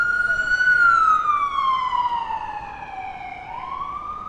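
A loud wailing ambulance siren sweeps downward and then rises again, close by and clear above a low street rumble on 57th Street in New York City.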